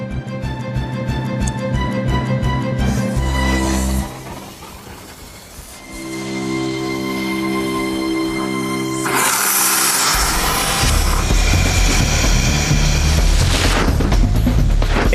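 Rocket-powered aspirator inflating an aircraft evacuation slide for an Airbus A380, a loud sustained roaring rush with booming bursts and rumble that swells and continues for several seconds.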